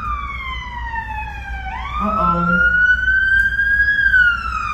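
Ambulance siren wailing loudly in a steady rising and falling sweep, alone without talk, growing stronger partway through as if the vehicle draws nearer.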